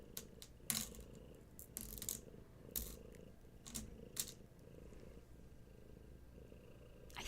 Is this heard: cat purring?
yes